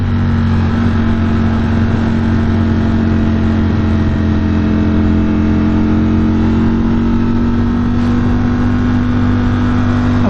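A 2021 Ducati Streetfighter's engine drones steadily and loudly while riding, a constant close mechanical hum with strong low tones and wind wash and no pauses.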